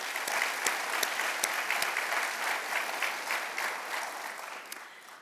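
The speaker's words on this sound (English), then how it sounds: "a big round of applause for Dr. Fabrizio." Audience at a medal of valor ceremony applauding, a steady, even crowd of clapping hands sustained throughout and slowly easing toward the end, with no speech over it.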